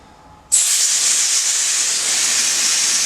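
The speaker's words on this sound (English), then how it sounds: "we've got our can of compressed air, and we're just gonna send it" A can of compressed air blasts into computer fans: a sudden loud, close hiss that starts abruptly and holds steady for about two and a half seconds.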